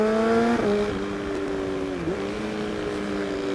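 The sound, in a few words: Kawasaki ZX636 motorcycle engine and exhaust sound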